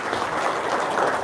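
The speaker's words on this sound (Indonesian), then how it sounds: "Tepuk tangan dong, luar biasa." A brief burst of audience applause, a short, even patter of many hands clapping.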